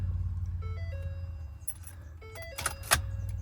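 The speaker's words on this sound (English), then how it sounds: "turn on the key to on without starting the truck, and then turn it back off" A 2015 Ford F350 6.7 Powerstroke has its key turned to on, giving a low steady hum under a series of dash chimes and beeps, with a brief key jingle and clicks close by.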